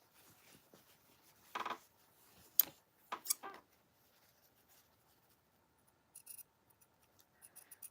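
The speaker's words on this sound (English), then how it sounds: "So heads up, trimming binding or cutting binding." Scissors snip through bias binding fabric at a sewing table, a few quiet scattered cuts and rustles separated by near silence, with light ticking and handling sounds toward the end.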